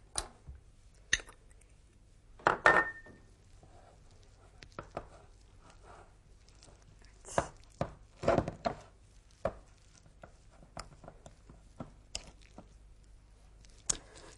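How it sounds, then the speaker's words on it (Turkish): A banana is sliced and the pieces are mashed into a dessert with a fork, giving sparse, sharp taps and knocks with uneven gaps between them. The sounds are close and clear against a quiet background, with no voices. "Muzu şöyle dilimliyorum ve dilim dilim atarak bu tatlının içine çatalla ezerek yedireceğim."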